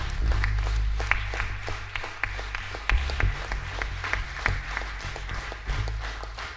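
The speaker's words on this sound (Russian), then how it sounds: "Аплодисменты" Sustained applause from a concert audience fills the space, a thick, even patter of many hands with a low steady hum beneath it.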